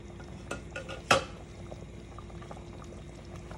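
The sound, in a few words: stirring food in a pressure cooker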